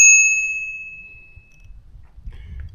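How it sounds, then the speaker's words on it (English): A small bicycle bell mounted on an e-bike rings once, a clear bright ding up close that decays over about a second, followed by soft handling noises. "Even got this little bell."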